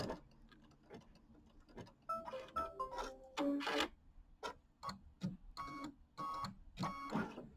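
A quiet sewing machine stitches across quilt blocks in short, irregular bursts of ticking clatter, some with a brief motor whine, close by and with no talk.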